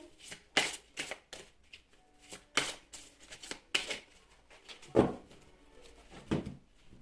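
Tarot or oracle cards shuffled by hand in a series of crisp, riffling bursts at irregular intervals, close and fairly loud, with quiet gaps between them and no speech.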